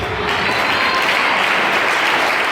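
A church congregation breaks into loud, sustained applause, many hands clapping densely and close, holding a steady level throughout with no speech over it.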